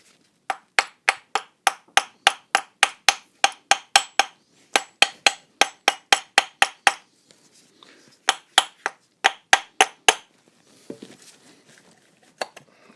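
Light hammer tapping on the body of a 1.6 HDi diesel turbo cartridge during replacement, a rapid run of sharp metallic ticks in quick bursts with brief pauses, close and clear, then a few softer knocks.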